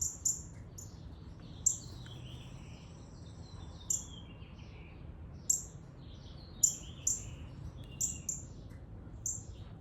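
Short, bright chirps from a songbird near its nest, spaced out at irregular intervals, clear and fairly close against a hushed outdoor background.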